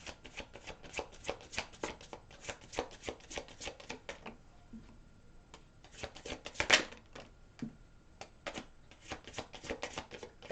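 A deck of tarot cards is riffled and shuffled in repeated quick bursts of crisp flutters and taps, close and fairly quiet, with a brief pause mid-way before the shuffling resumes.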